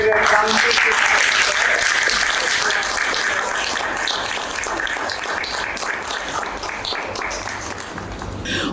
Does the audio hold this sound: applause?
yes